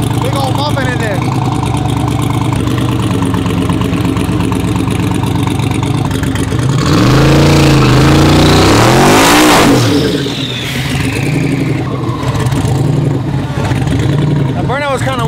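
A twin-turbo LS-powered 4x4 street truck at a race revs loudly and then roars hard as it launches and accelerates, with a second engine idling and rumbling nearby and voices shouting over the noise.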